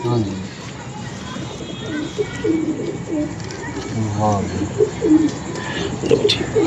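Pigeons coo in repeated low, throaty calls, close by, with some faint background noise.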